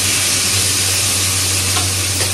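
Onion and potato fry in a pan with a loud, steady sizzle and a constant low hum underneath, and no voices.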